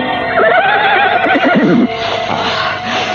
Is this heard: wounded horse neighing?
yes